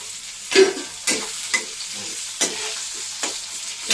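Tomato dropped into hot oil in a home kitchen pan fries with a steady close sizzle, interrupted by several sharp stirring scrapes and clatters spaced about half a second apart.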